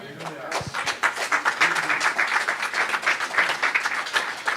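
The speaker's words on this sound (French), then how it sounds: "Applaudissez le Seigneur" Church congregation in Sept-Îles applauds during a service with a run of sharp, closely spaced claps that settle into a loose rhythm, voices mingled underneath.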